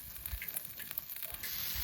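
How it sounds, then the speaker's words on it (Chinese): Dried chillies fry slowly over low heat in a wok, giving a faint, soft sizzle with light crackles and gentle stirring close by. "干辣椒小火慢煎，"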